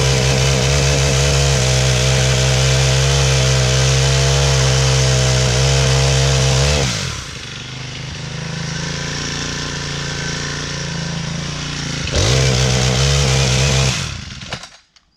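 A chainsaw engine idles and revs loudly while warming up, steady and close, dropping to a lower idle midway before revving up again and cutting off at the end.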